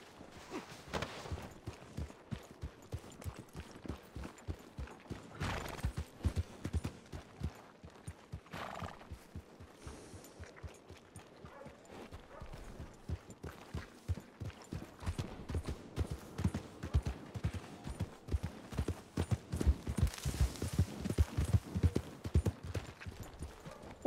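Steady clip-clopping horse hooves with occasional whinnies in the video game Red Dead Redemption 2, over a busy background, rhythmic and fairly close throughout.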